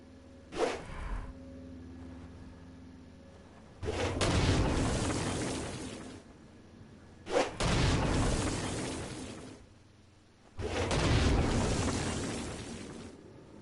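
Stone Blast attack explosions in the video game Saints Row: Gat out of Hell, used against flying demons, three heavy booming blasts each preceded by a sharp pop and rumbling on for a couple of seconds, separated by quieter game ambience.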